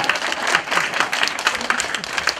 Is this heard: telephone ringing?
no